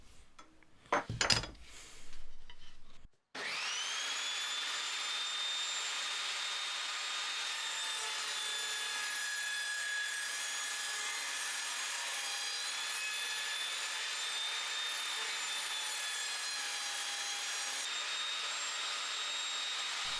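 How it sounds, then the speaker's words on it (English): A hand plane takes fine shavings off the faces of wooden toolbox boards: one long, even, hissing stroke that holds steady for many seconds after a short burst of knocks and handling noise. "I have my plane set to take as fine a shaving as I can"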